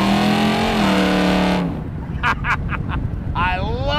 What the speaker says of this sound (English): gonna listen to the radio when you got that beautiful exhaust singing back there?